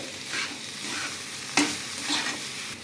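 Turmeric and coconut paste frying in a pan, a steady close sizzle broken by a few scraping strokes of a spoon as it is stirred, one sharper clack partway through.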